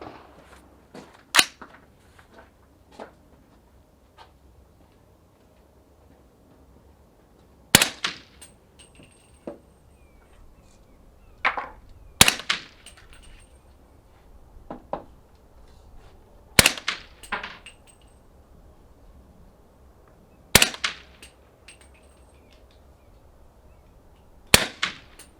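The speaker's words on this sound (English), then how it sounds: "with the Gavin tube load, CMMG barrel with the SIG Sauer suppressor" Suppressed 300 Blackout rifle with a CMMG barrel and SIG Sauer suppressor fires single shots at a range, sharp cracks spaced several seconds apart, with fainter distant pops and clanks between them.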